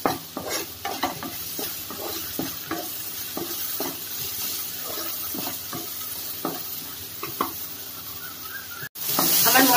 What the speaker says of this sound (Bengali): এই মশলাটা আমি একটু ভাজা ভাজা মতো করে নিচ্ছি।